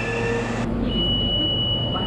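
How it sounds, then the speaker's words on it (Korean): An Almaty metro subway train arrives in the underground station with a loud, continuous rumble and a high, thin whine of wheels and motors. "잠시 후 도착한 지하철."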